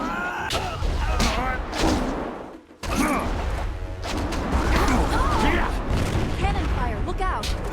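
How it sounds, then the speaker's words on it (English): Booming cannon blasts and crashing impacts in the video game Jade Empire, heavy and loud amid chaotic battle noise, with a voice shouting a warning over the combat. "Cannon fire, look out!"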